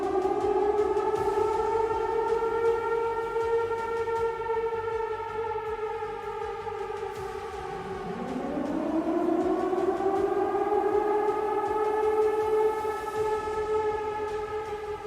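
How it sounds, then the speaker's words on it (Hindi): An air raid civil defense siren sounding over Hiroshima in wartime wails loud and alone in a long sustained tone, dips and then rises again in a fresh swell. "फिर करीब 8:15 बजे एक बार फिर से सायरन बजा"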